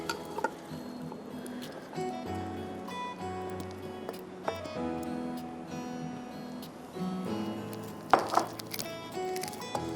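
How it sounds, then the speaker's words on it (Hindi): Greek-style salad is tossed in a large bowl, with soft clinks and scrapes of utensils against the bowl, irregular rustling knocks and a few sharper taps near the end, heard close and fairly quiet without talk. "अब आप इसको अच्छी तरह से टॉस करिए बड़े प्याले में"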